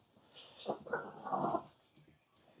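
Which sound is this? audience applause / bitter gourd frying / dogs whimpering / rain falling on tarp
dogs whimpering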